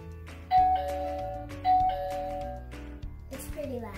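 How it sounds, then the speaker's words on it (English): A toy dollhouse doorbell rings a two-tone ding-dong, played twice in a row, loud and close, with a voice speaking toward the end. "it has a blue button which is a doorbell. And these lights light up every time you push the doorbell"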